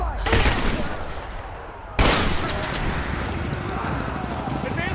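Shotgun fire in the video game Rise of the Tomb Raider: two heavy, close blasts about two seconds apart, with dense rumbling game noise continuing between and after them.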